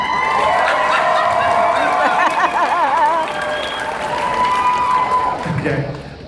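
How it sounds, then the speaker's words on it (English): A large convention-hall audience at a San Diego Comic-Con panel applauds and cheers as a fandom name is put to a vote, the clapping loud and sustained throughout with shouts rising over a dense crowd wash. "round of applause for Clock Blockers"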